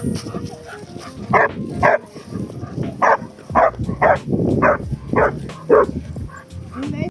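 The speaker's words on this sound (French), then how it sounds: "sa chienne Adi, une berger allemand qui aboyait systématiquement sur les autres chiens" Female German Shepherd barking at other dogs, a string of sharp, close barks in uneven bursts mixed with whimpering, over background talk and ambient noise.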